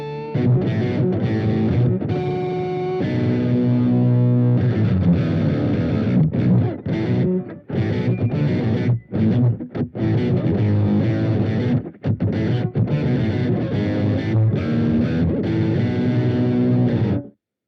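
A Boss Katana-Mini X guitar amp set to heavy metal distortion plays chugging, saturated riffs with choppy palm-muted stops and brief gaps, loud and upfront with no talking.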